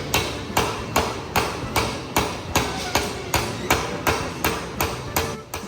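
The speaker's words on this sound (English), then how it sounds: "Essentially using your hammer to force it into the flat of the anvil." Hammer forging a rail spike dagger against the flat of an anvil: about fourteen sharp, ringing metal strikes in an even, steady rhythm, close and loud, with no talk.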